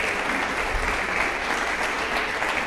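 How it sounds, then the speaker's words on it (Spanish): A church congregation applauds during a sermon: a full, even wash of clapping from many hands that holds steady and fairly loud for nearly three seconds, with no speech over it. "yo creo que Dios se merece un aplauso."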